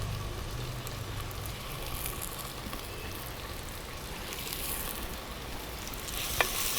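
Sliced big onions fry in hot oil in a pan for potato kurma, giving a steady, soft, even sizzle with no break.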